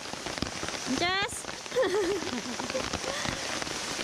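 Rain falling on a tent beside a waterfall, a dense steady patter close by, with brief voices and a short whistle-like sound passing over it.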